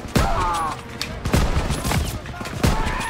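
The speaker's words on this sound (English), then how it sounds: "There's the AA gun!" Anti-aircraft gun firing in Call of Duty WWII, loud heavy booming shots spaced roughly every second with echoing tails over battle noise.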